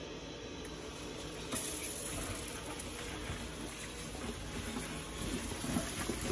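A garden hose runs water over sun chokes (Jerusalem artichokes) in a colander, giving a steady, close, even splashing rush with no break for several seconds. No talking.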